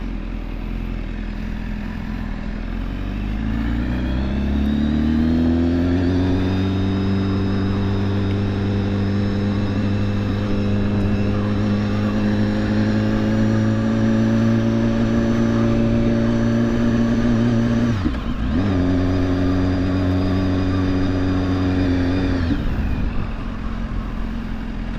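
A 2016 BMW S1000RR motorcycle, brand new on fresh tires and in rain mode, revs up and accelerates hard, its engine note climbing and holding loud and close, with a brief dip as it shifts or eases off before pulling again.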